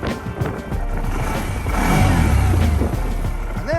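A Can-Am ATV fitted with a CVTech clutch runs close by, its engine droning steadily and swelling louder midway as it revs, with no talk over it.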